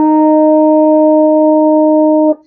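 A French horn sounds a single sustained open middle space C with no valves pressed, a clean steady tone held for about two seconds before releasing.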